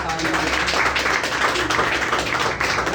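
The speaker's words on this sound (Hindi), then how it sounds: "एक बार रंगलाल के लिए जोरदार तालियां।" An audience giving loud applause for Ranglal, dense continuous clapping at close range with a few voices mixed in.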